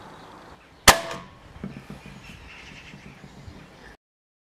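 A BAM/SMK DB4 air rifle fires a single 14.3 grain pellet over a chronograph, one sharp close crack followed by a short mechanical ring and faint handling noise.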